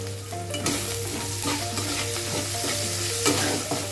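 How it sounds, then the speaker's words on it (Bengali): Chopped onion with a ground paste of ridge gourd peel, green chilli and poppy seed frying in oil, a steady loud sizzle with scraping stirs over a constant low hum and faint background music tones. "ঝিঙের খোসা, কাঁচা লঙ্কা আর পোস্ত বেটে পেঁয়াজ কুচি দিয়ে দিলাম তেলের উপর।"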